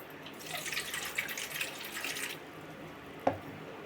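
Water poured from a tap or jug into a small cup while preparing egg parotta dough, a steady splashing trickle for a couple of seconds, then a single small clink near the end.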